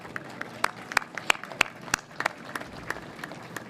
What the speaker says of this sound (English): let's give a big round of applause for our color guard from the USNS Mercy